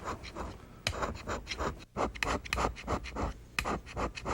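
A hand-scraped machine tool way surface being stoned down, heard as close, repeated rasping strokes in an uneven rhythm with short pauses between them, with no talking.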